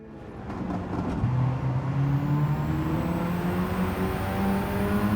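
An RE Amemiya FD3S RX-7 rotary engine in a racing video game on the Nurburgring GP circuit, revving up steadily and loudly with a rising whine as the car accelerates, no talk over it.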